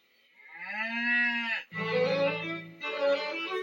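Cows in the English countryside moo close by, several long, loud, drawn-out calls following one after another with no talk over them.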